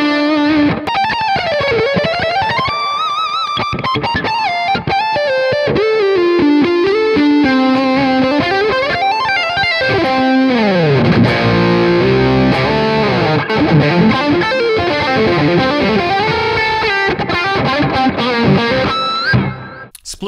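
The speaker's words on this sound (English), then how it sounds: "So this one is just more of a normal lead sound that I would use." A smooth, sustained electric guitar lead tone from an Archetype Mateus Asato plugin plays a continuous melodic line with bends and slides, loud and close, alone without talk.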